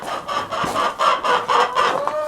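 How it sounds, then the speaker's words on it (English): Chickens on a farm in freezing winter weather cluck and squawk in a quick series of close, loud calls with short pauses between them and no talking. "chickens are doing good."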